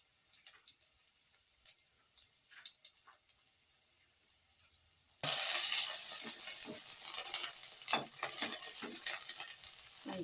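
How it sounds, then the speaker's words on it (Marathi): Quiet clinks and stirring at first, then a sudden loud burst of sizzling as onion hits hot oil for a mackerel curry, continuing steadily with crackles. "कांदा मी आता फोडणीला देते"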